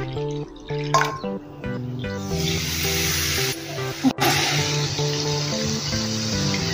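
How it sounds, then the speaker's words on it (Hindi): Water is poured from a bowl into fasting flour for a vrat tikki dough, a hissing splash heard nearby beneath steady background music, with no talking. "एक कटोरी से हम पानी डालेंगे।"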